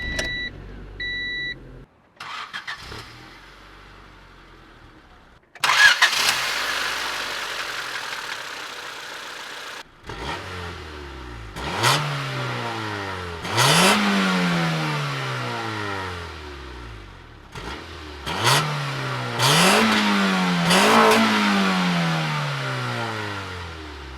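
A 1993 Honda Civic DX with a naturally aspirated 1.5-liter single-overhead-cam 16-valve inline four cranks, starts and settles to idle, then revs up and falls back several times in a row, close and clear with no talking.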